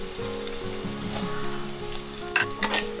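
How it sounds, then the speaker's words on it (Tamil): Garlic and onion sautéing in sesame oil in a pan for a Tamil shark fish curry, a steady close sizzle and crackle with occasional stirring scrapes, no talking. "பூண்டு கொஞ்சம் வதங்கினாலும் இந்த வெங்காயத்தை எடுத்து போட்டுடலாம்"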